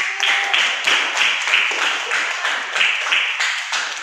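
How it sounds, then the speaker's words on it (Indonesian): A class of junior high students claps for a group in a classroom, a loose, uneven burst of hand claps rising and falling in waves, fairly close. "Beri tepuk tangan untuk kelompok 1"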